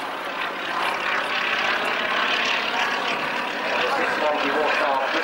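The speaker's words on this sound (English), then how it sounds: "we watch our Bristol Pegasus 9-cylinder radial engine" A Fairey Swordfish biplane's Bristol Pegasus nine-cylinder radial engine drones steadily at an air show, a loud continuous propeller hum heard alone throughout.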